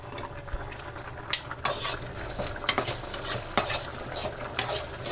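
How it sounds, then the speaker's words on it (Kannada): Garlic, pepper, cumin, onion and curry leaves fry in hot oil, a steady sizzle broken by repeated scraping and clinking as a utensil stirs the pan close up. "ಸ್ವಲ್ಪ ಆಯಿಲನ್ನು ಸೇರಿಸಿ ಫ್ರೈ ಮಾಡ್ಕೋಬೇಕು."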